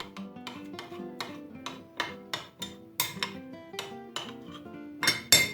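A spoon stirs fine bulgur and freshly poured boiling water in a bowl, clinking against the sides in a run of sharp, regular taps about twice a second, close and fairly loud with no talking.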